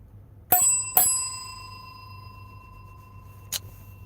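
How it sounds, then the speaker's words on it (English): A small bell rung to start class gives two quick, bright dings about half a second apart, each ringing out for a while, then a third lighter tap a few seconds later, against a low steady hum. "Your boy got a bell now for class."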